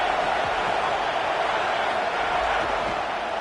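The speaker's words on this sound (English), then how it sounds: "This crowd ready to make its presence known." Stadium crowd in College Football 27, a dense, continuous roar of cheering and noise holding steady and loud throughout.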